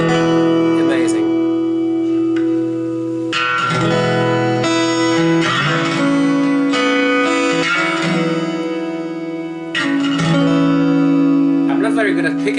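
A Fender Acoustasonic Player Telecaster is strummed through its piezo pickup for an acoustic tone, ringing chords changing every second or two and sustaining steadily, close and fairly loud, with no talking over the playing.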